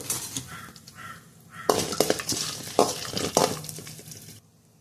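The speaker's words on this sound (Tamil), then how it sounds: "எல்லாமே போட்டு லைட்டாக பொரிச்சிக்கோங்க" Pepper and cumin fry lightly in a pan, with a soft sizzle under scraping and clattering stirring strokes. The stirring comes in close, irregular bursts and then stops abruptly.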